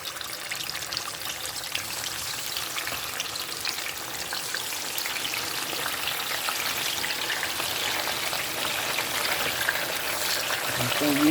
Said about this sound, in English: So we're going to fry the chicken,